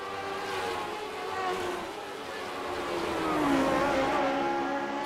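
Classic Lotus Grand Prix race cars at the Nürburgring, engines droning steadily at a distance with a rising, shifting pitch as they pass through corners, a continuous broad roar with no speech.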